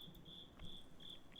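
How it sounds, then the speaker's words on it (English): A cricket chirps close by in steady high-pitched pulses, repeating every half second or so over a quiet indoor background, with no voices. "You gonna shut up, Cricket, so I can pay attention?"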